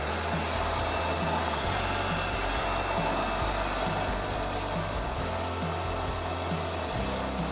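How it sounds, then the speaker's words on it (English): An electric whisk whips cream for homemade ice cream with a steady, even mechanical whir. The motor hums without a break throughout and is fairly quiet. "I'm going to whisk the cream for at least 5 minutes"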